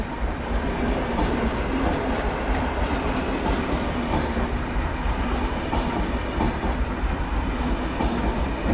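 Pomorzanin passenger train from Gdynia Główna, running a few minutes late, at Wrocław Główny station: a steady, loud rail rumble with rhythmic clickety-clack of wheels over joints throughout, no voices.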